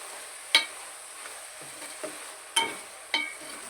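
Eggplant curry with dried fish being stirred in a pan, several sharp scrapes and knocks of the spoon spaced across the moment over a soft steady sizzle, close and alone with no talk.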